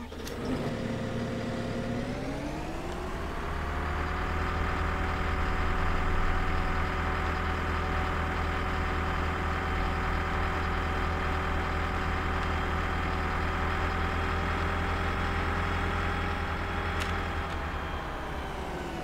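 A tractor engine in Farming Simulator 19 runs steadily as the vehicle drives, a continuous low droning rumble that rises slightly at the start and then holds constant and loud throughout, with no talking.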